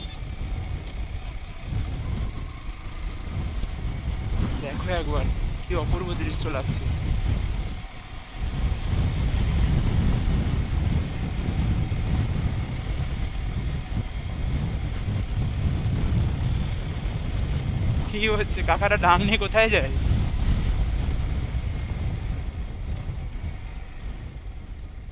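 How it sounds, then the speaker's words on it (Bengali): Strong wind buffets a phone microphone in a continuous loud rumble on a hilltop drive down the slopes of Ajodhya Pahar in Purulia, with a few short bursts of speech rising over it. "এখানে এত হাওয়া, নর্মাল ব্লগস করলে ফোন থেকে কিছু শোনা যাচ্ছে না।"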